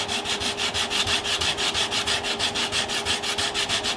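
Wood being hand-sanded on a scratch-built electric guitar body: a steady run of quick, rhythmic back-and-forth rasping strokes, close and even, with no voices.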